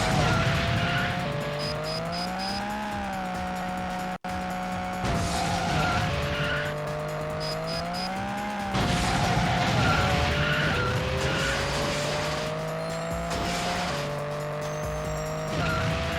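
Emulated car racing video game played on a MiSTer FPGA, with a steady electronic engine drone shifting pitch as the turbo kicks in, repeated tire squeals and skids, and no voices.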